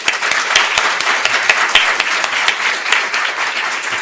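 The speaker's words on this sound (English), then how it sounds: "So please give him a big round of applause." Steady, full applause from the audience at a diplomatic academy lecture in Seoul, dense clapping from many hands sustained evenly throughout with no talking over it.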